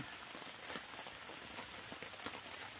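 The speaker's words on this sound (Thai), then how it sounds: "ฝนตกจ้ะพี่น้อง" Steady rain falls outdoors in a longan orchard in Thailand, a dense continuous hiss with scattered louder drops and no talking.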